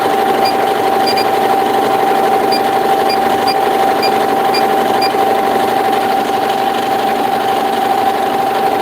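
A Halo embroidery machine runs at reduced speed with a steady, even mechanical hum and a constant tone, loud and close throughout, with faint periodic ticks and no talking.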